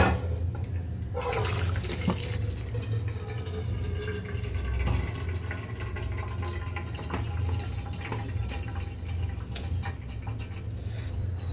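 Water from boiled drumstick leaves pours and gurgles steadily through a kitchen strainer, a close, continuous running-water rush with small drips and splashes throughout.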